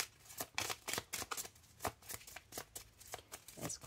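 Playing cards are shuffled by hand for a card reading, a close run of quick riffling bursts and soft slaps in an uneven rhythm, with no talking over it.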